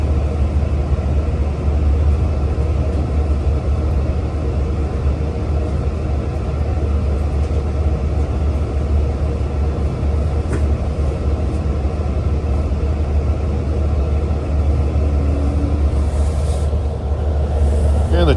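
A Long Island Rail Road equipment train rumbles past close by at Oakdale, a loud continuous roar with low droning engine tones that holds steady for the whole stretch.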